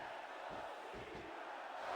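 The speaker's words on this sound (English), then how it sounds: "the crowd has come alive tonight with a chant directed at the superstars in the ring" Arena crowd in the WWE SmackDown vs. Raw 2006 game chanting at the wrestlers in the ring, a steady, distant roar of many voices with faint rhythmic pulses, heard alone.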